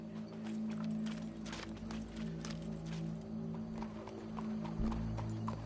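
Horse hooves in a PS4 video game, steady clip-clop steps over a low droning game soundscape, moderately loud and close, with a brief thump near the end.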